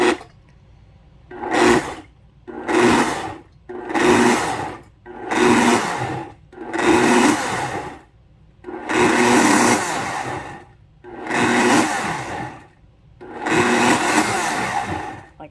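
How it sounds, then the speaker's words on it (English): A blender whirs in eight short bursts pulsing eggs, each lasting about a second, separated by brief pauses of quiet. "I found it to be much easier if I just pulse the blender a couple of times"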